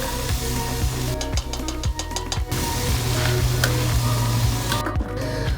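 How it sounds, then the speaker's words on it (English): Sausages sizzle in a pan on an outdoor camp stove in the woods, a steady, close frying hiss with occasional sharp crackles and pops, no voices. "I'm just gonna go ahead and stick the sausages on there so they can start to cook."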